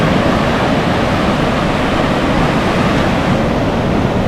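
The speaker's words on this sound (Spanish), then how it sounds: "Está el mar bastante alborotadito" Rough sea surf at a beach in Conil de la Frontera, Cádiz, makes a loud, continuous roar of breaking waves, broad and unbroken throughout, with no voices.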